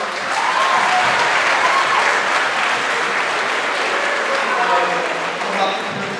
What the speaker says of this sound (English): I would like to start off this speech with an applause for class of 2014. Let's clap for us